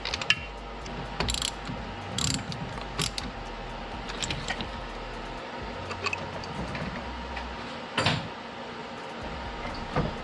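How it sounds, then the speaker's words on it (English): Ratchet clicks in bursts while tightening down the radiator mount during a K-series engine swap into a Ford Ranger, close and fairly loud over a steady shop hum, with sharper bursts near the start and again around eight seconds. "So I'm going to go ahead and tighten this down."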